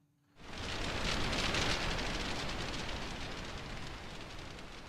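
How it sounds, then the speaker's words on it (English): A free audio plugin generates a dense hiss resembling rain, starting abruptly and holding as a steady, broad wash of noise that eases slightly toward the end, with no talking. "It sounds like rain."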